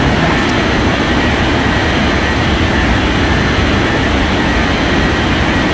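An airliner takes off in an air traffic control game, a steady, loud jet engine roar that holds constant throughout with no voices over it.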